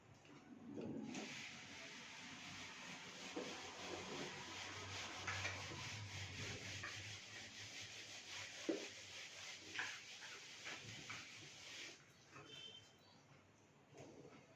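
Someone rubs writing off a classroom board, a continuous scrubbing swish that holds fairly steady for most of the stretch before trailing off.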